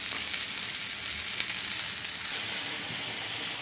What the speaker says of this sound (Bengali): এখানে আমি টমেটো কুচি দিয়ে দেবো।